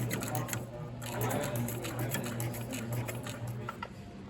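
Sewing machine stitching forward in a steady, fast mechanical whir with a rapid needle patter, close and fairly quiet, running continuously without speech.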